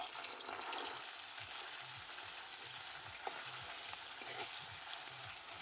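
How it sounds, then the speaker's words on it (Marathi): Ground masala paste fries in hot oil in a kadhai, giving a soft, continuous sizzle with faint bubbling crackle; no one speaks. "कढई पण खूप तापली तर आता वाटण पण टाकते आणि तळून घेते चांगलं"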